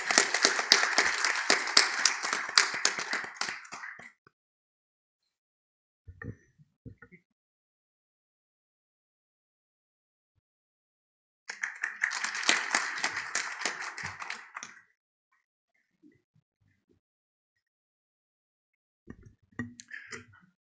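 Audience at a foundation's founding symposium ceremony applauds in two bursts, a few seconds of dense clapping, a pause with scattered taps, then a second round of similar length.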